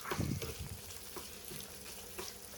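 Onions frying in a pan with a pinch of salt, a steady crackling sizzle with some louder bursts near the start that settles into a soft, even fry with no voices.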